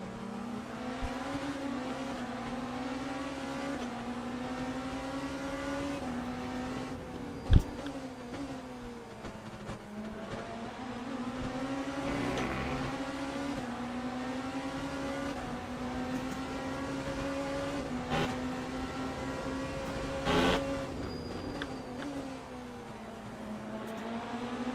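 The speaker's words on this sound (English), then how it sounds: "there goes the Ferrari" A Ferrari race car in a World Endurance Championship race, its engine a steady sustained drone that passes by and holds on, with a brief sharp crack partway through and another louder burst near the end.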